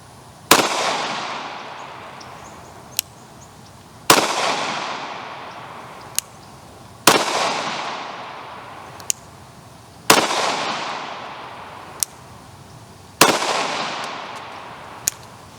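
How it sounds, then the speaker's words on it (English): A pistol fires five slow, evenly spaced shots at a range, each one a loud, close crack with a long ringing decay, and a faint click falls between shots. "Let's shoot this thing. Slow fire, 5 rounds."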